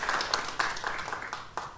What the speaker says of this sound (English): If you guys give them a round of applause, that would be great.